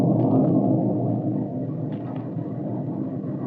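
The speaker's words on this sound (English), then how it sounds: "With the breaking of the storm, the light in the kitchen went out." A thunderstorm sound effect in a radio drama, a loud, deep rumbling roll that fades slowly over several seconds, with no talk.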